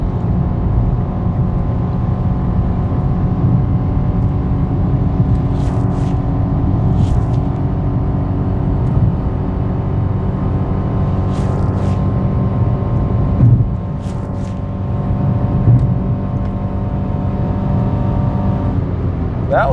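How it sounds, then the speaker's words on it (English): A 2024 Mitsubishi Mirage G4 accelerating at full throttle with the air conditioning on makes a loud, steady engine drone heard from inside the cabin. The hum holds for the whole stretch, with a few brief higher noises on top. "That was a lot of full throttle."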